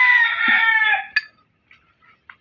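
A rooster's long crow fills the first second, then a few short, faint clucks from giant chickens follow with quiet gaps in between.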